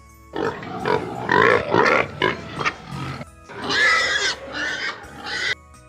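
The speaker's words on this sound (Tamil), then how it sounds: "பன்றி சீரும். பன்றி சீரும்." A pig grunts and squeals repeatedly in a rapid, uneven series of snorts, fairly close and loud, with brief pauses between bursts.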